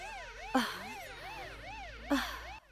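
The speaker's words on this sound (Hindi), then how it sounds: "एम्बुलेंस क्यों आई है" Ambulance siren wailing in a repeating rising and falling sweep, moderately distant, with two short bursts of noise over it and no talking.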